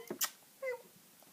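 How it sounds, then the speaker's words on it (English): A cat entering a room gives a short, fairly faint meow, with a soft tap just before it, in an otherwise quiet indoor space. "my cat's just come in"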